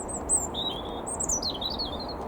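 A robin gives high, bright chirps and short warbling phrases over a constant outdoor hiss.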